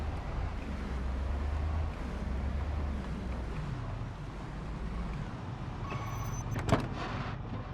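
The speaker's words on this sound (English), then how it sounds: "I guess a noisy car brought out all the zombies." A noisy car driving in a zombie video game: a steady low engine rumble and road drone throughout, heavier in the first couple of seconds, with a brief rattle near the end.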